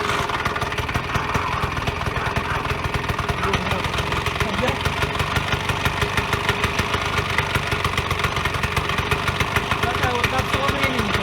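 A Vyatka Elektron scooter engine, being revived, idles with a steady, fast, close putter and regular pulsing beats, with someone talking over it.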